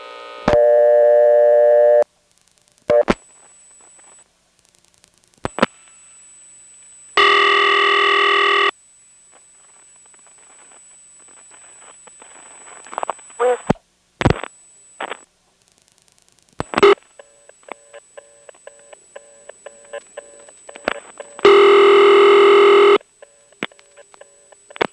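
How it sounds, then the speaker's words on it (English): Tones from a 1977 step-by-step telephone exchange with no E.A.S. in Windsor, North Carolina, reached through an operator intercept trunk: several loud, steady tone bursts alternate with clicks, gaps and a faint high line tone, and no one speaks. "You'll hear the ring from the intercept trunk."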